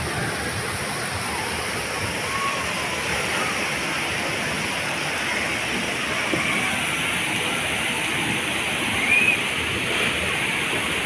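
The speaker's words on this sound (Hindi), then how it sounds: "हर तरफ पानी ही पानी गिर रहा है" Water pours and rushes down loudly and continuously at a water park in Brunei, a dense steady roar of splashing that fills the whole scene without letup.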